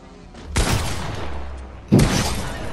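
Two loud pump shotgun blasts from the Fortnite video game, close and sharp, spaced about a second and a half apart, each with a short decaying tail.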